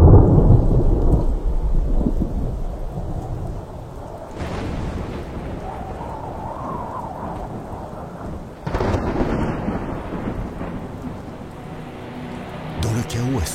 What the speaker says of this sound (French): Une tempête d'une violence inouïe s'abat sur Deauville.